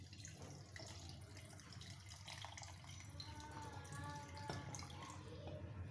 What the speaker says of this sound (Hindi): दूध शामिल करूँगी।